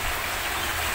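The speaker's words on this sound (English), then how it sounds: "Oh my god, it's raining." Rain falling outdoors at a football training session, a steady even hiss of drops with no distinct rhythm, heard alone without talk.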